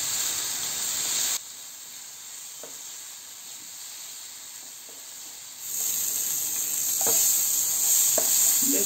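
Spices fry in a spoonful of ghee for a Bengali prawn malai curry, a bright continuous sizzle with soft stirring clicks, the hiss swelling louder partway through.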